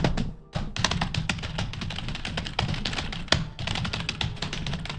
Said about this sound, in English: He's typing it up. I can hear him little.